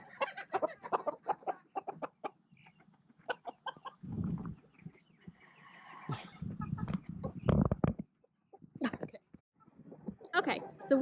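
A hen named Elvira clucks and squawks in agitated bursts while being groomed, her toenails trimmed and wings clipped, close and loud, with a person talking in between the calls.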